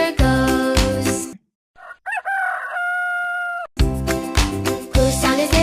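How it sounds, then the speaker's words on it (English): A rooster crows once in the middle, a single loud, drawn-out call with a rising start and sustained tonal cry, set apart by silence from loud music before and after. "This is a rooster. Rooster goes."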